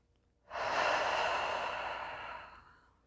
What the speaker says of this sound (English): We'll take a deep breath.